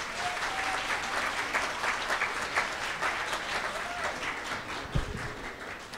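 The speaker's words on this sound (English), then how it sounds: "Give him a nice round of applause" Sustained applause from a school audience at an Arbor Day celebration, dense steady clapping throughout with a faint voice briefly under it.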